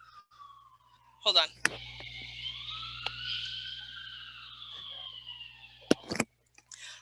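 A police siren wails with rising and falling pitch at a distance on a city street in Washington, D.C., heard over a low hum, with a brief spoken phrase and a few clicks nearby.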